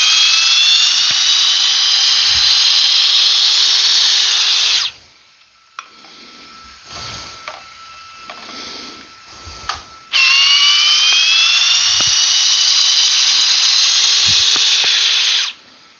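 A high torque hammer drill without anti-kickback runs in two long, loud whining bursts several seconds each, its pitch rising slightly as it spins, separated by a quieter gap of handling clicks and knocks.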